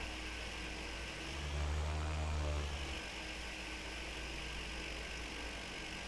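A light aircraft's engine hums steadily at a ground run-up before takeoff, parked with the brake set; a constant close drone with a brief surge in low rumble partway through, no talk.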